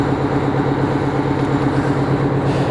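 A small Yanmar engine in a Neoplan Cityliner-based motorhome runs steadily nearby, a continuous even idle-like drone with no talk, after sitting unused for a while.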